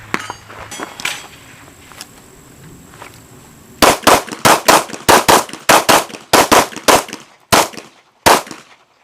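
Pistol shots fired at silhouette targets on an outdoor range, about a dozen sharp, loud cracks in a quick uneven string after a few quiet seconds, then two slower final shots.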